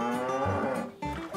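A big cartoon cow gives a short, deep moo in two quick pulses, heard close and alone.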